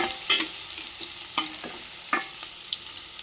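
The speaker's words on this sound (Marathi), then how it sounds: "त्याच्यामध्ये आपण ॲड करू कांदा. मस्त कांद्याला भाजून घ्यायचं आहे." Onion frying in a pan with curry leaves, mustard seeds and garlic: a soft sizzle broken by several sharp spatula scrapes and clicks as it is stirred.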